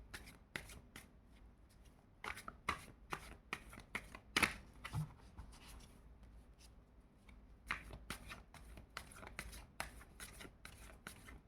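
Tarot cards being shuffled by hand, quiet crisp riffling and slapping bursts repeating irregularly, close and faint, with no talking.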